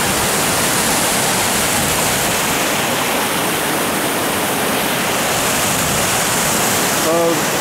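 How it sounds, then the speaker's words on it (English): A springtime waterfall in the south of France roars as a loud, constant wash of rushing water that fills the whole stretch, heard from a close vantage point. "So here's a waterfall."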